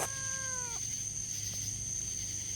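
A single short cat meow, clear and close, gliding downward in pitch for under a second before fading into a steady high electronic whine and faint room noise.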